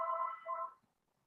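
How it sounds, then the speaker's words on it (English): A telephone rings once during a talk, a short electronic two-part trill that cuts off quickly into quiet. "So sorry about the phone call."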